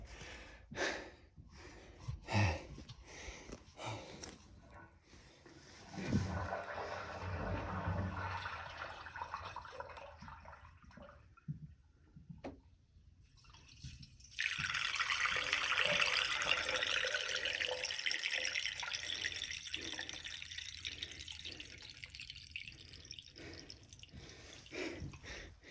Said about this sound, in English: Okay, flush the toilet.